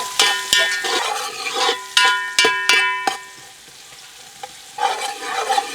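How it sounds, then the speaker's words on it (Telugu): Three medium onions, cut into pieces, fry in a pan for gongura chicken biryani, a soft sizzle broken by bursts of metallic, ringing spoon-on-pan stirring strokes, close, with a quieter pause in the middle. "మూడు మీడియం సైజు ఉల్లిపాయ ముక్కలు వేసేసుకుందాం ఇవి బ్రౌన్ కలర్ వచ్చేవారికి బాగా వేయించుకుందాం"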